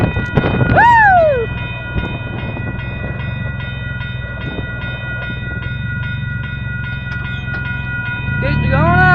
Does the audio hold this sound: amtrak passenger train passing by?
yes